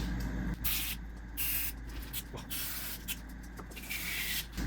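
Short hissing bursts of grease spray lubricating the chain on a 1970 Triumph TR6, several close spurts separated by brief pauses.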